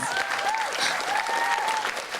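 A crowd at a senior awards ceremony claps steadily and densely for a couple of seconds, continuous applause with a faint whistle-like tone riding over it.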